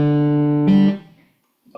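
A guitar plays a short Auld Lang Syne melody figure in a quiet room: a long sustained note followed by a quicker one, each ringing clearly before fading, with another note starting just at the end.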